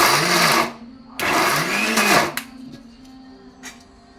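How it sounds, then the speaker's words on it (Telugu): An electric mixer grinder runs two short, loud whirring bursts on peanuts, sesame seeds and green chillies for a Rayalaseema-style ridge gourd chutney, then its motor winds down, leaving faint clatter. "ఇట్లా కలబెట్టుకుంటూ మిక్సీకి వేయాలి."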